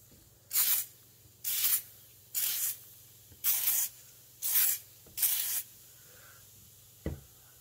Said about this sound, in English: So that's the spray starch.